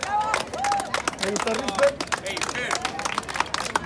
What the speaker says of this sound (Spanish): Un aplauso a Risper.